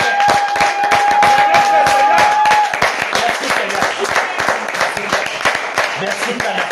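A church congregation claps and cheers for the Lord in a steady, dense wash of applause, while a voice speaks over the crowd.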